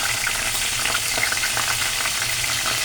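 Fenugreek, dry red chilli, cumin paste, turmeric and salt sizzle in a pan for a salmon curry, producing a dense, even hiss that runs unbroken from start to finish, with faint stirring scrapes mixed in.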